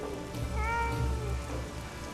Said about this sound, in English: Are you hungry, little kitty cat?